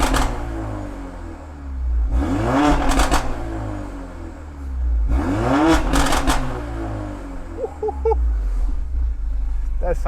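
A car fitted with a Miltech turbo-back exhaust revs twice in strong bursts, each swelling to a loud rasping roar and falling away, followed by a quieter idle with small ticks near the end.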